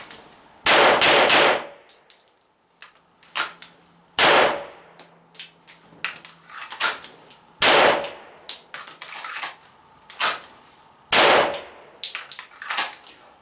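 Pistol fire on an outdoor range at a target about five yards away, sharp loud reports in quick pairs and short strings separated by pauses, each crack followed by a brief ringing metallic tail.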